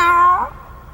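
A single loud, close cat meow in a French audiobook of Terry Pratchett's Wyrd Sisters, sliding downward and fading within half a second.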